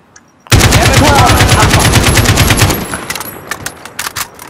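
Sustained automatic machine gun fire in Call of Duty: Modern Warfare, a loud close rapid burst lasting about two seconds that tails off into scattered shots and echoes.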